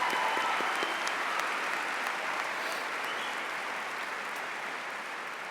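A large high school graduation crowd applauds in a sustained, dense wash of clapping that fills the hall and slowly fades slightly toward the end.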